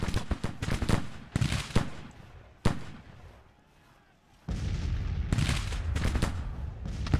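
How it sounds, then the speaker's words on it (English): Civil War artillery fire in the strategy game Grand Tactician: The Civil War, a series of heavy booming cannon shots and crackling musketry, loud and repeated, with a quieter pause midway before the barrage resumes. "Under artillery fire."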